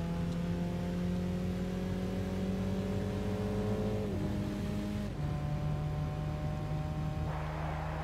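A BMW 2002 classic sports car engine in Gran Turismo 6 revs steadily, pitch climbing through one gear then dropping at a shift and pulling again, loud and close with no voices.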